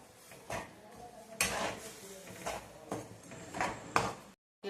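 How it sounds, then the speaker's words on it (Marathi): Jaggery being stirred in a metal pan while it cooks down for sesame laddoos, with a run of scraping, clinking strokes of uneven strength, close up and loud, stopping briefly near the end. "आता मी गुळाला छान घुमत राहील आणि याला मी मॅच होईपर्यंत याला चांगलं पकू देईल"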